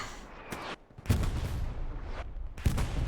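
Grenade blast and gunfire in a competitive video game match, with sharp broadband bursts and a rumbling explosion tail, loud and close, under sparse background noise.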